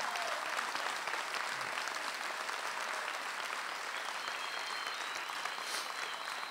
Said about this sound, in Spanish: les damos un gran aplauso por toda la